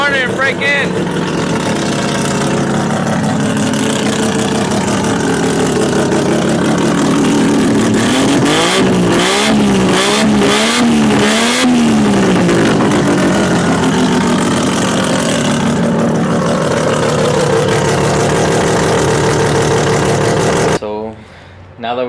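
A 20B three-rotor rotary engine running in a right-hand-drive Mazda FD, loud and close, with a rough burbling idle that rises into a couple of quick revs before settling back and then cutting off abruptly.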